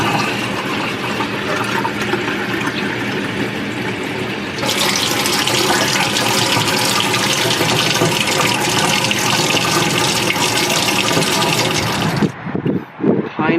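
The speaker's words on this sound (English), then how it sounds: "let's put this in some hot water and let it steep for a couple minutes" Hot water pours continuously over pine needles, loud and close, growing fuller partway through before cutting off into a few brief splashes at the end.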